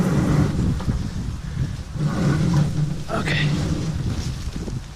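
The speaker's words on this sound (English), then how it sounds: "the wind's starting to blow hard" Hard wind blowing outdoors while transplanting cane and bamboo, a loud continuous low rumble buffeting the microphone in gusts, with someone briefly speaking.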